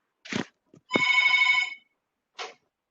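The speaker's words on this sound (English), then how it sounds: "please, guys, someone's phone is ringing." A mobile phone rings out in a room, with a short burst of ringtone tones standing out clearly between brief soft knocks and rustles.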